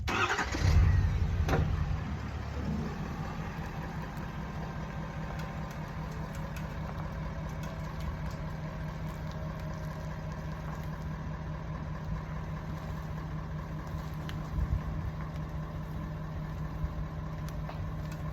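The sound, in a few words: truck engine pulling forward to skin a deer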